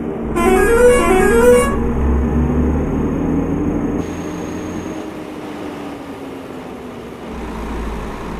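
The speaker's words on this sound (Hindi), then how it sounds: "दोस्तों हमारी बस का हॉर्न है जो भी आपने सुना वो हमारी बस का हॉर्न है" An Odisha state (OSRTC) bus horn blares loudly for about a second and a half on a road from a village toward a highway, followed by the continuous rumble of the bus engine and road noise.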